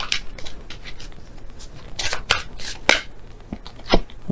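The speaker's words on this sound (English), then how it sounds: "So I'll shuffle again and see which one comes out." Tarot cards are shuffled again by hand during a love reading. Crisp riffling and flicking bursts come in uneven clusters over a quiet background, with no talk.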